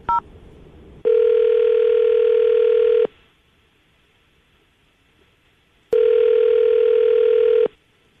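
A telephone dial tone sounds while a call is being placed: a short beep, then two long, steady, loud tones of about two seconds each, separated by a quiet gap, with no voices.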